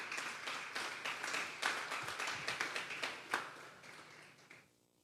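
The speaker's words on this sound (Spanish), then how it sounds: "Vamos a darle un fuerte aplauso al Espíritu Santo esta tarde." Congregation at a Sunday church service giving hearty applause, a dense run of overlapping handclaps that holds steady and then fades out at the end.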